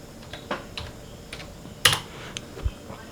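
Someone typing a phone model name on a computer keyboard, a sparse run of light key clicks, one sharper press standing out midway, close and alone without talk.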